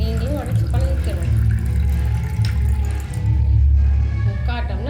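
Water splashes out of a cracked coconut in a steady, close trickle over a low rumble, with people talking over it.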